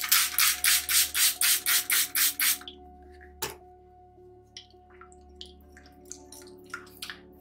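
Water is squirted into a bath bomb mixture in about nine quick, even spritzes, followed by a quieter stretch of scattered drips and small wet clicks.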